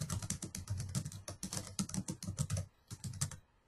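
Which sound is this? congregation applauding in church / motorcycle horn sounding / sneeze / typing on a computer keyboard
typing on a computer keyboard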